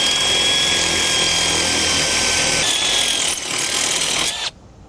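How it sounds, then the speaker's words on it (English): A power drill whines loudly and steadily as it bores through a metal bar while mounting a tow defender protective screen, its pitch dipping slightly under load before cutting off abruptly. "We're gonna drill through our bar here"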